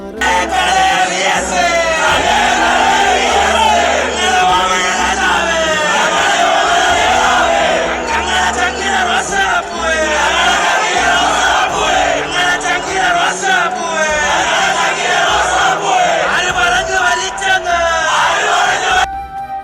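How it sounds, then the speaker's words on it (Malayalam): A dense street crowd chants slogans for V.S. during a funeral procession in Alappuzha, many voices shouting in loud repeated rhythmic bursts that fill the whole stretch without pause. "ജനക്കൂട്ടം കണ്ണേ കരളെ വി എസ് എ മുദ്രാവാക്യങ്ങളുമായി തെരുവുകളെ നൊമ്പര കടലാക്കി"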